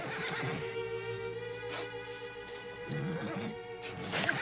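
A horse whinnies close by in a quiet outdoor scene, a drawn-out neigh followed by shorter snorting whinnies, moderately loud with no voices.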